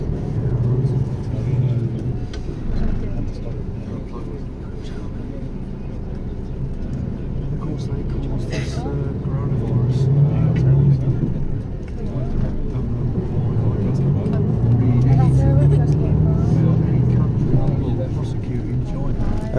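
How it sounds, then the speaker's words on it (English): A shuttle bus carries passengers from the harbor in Split to the airport, with a steady engine rumble and road noise that swells and fades, under faint, muffled voices. "I will keep you updated how the ride is to the airport with the shuttle bus"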